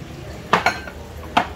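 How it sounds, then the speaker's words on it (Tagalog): Chicken tinola being stirred in a cooking pot, with three or four clear scraping knocks of a utensil against the pot, spaced irregularly over a low background hum. "Haluin mo lang."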